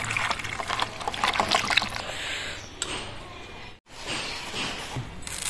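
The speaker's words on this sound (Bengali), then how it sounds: "এবার ধুয়ে নেবো জল দিয়ে।" Chopped green chillies, garlic and onion rinsed under water in a home kitchen, giving a steady trickling, splashing wash with brief pauses and one short silent break, close and moderately loud.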